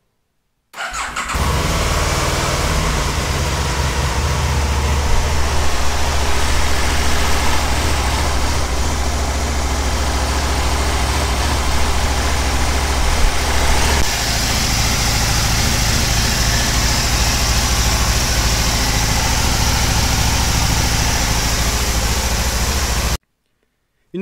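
Aprilia Caponord 1000 ETV motorcycle engine idling steadily with a dirty, uneven note, a loud continuous rumble running for about twenty seconds with no talking.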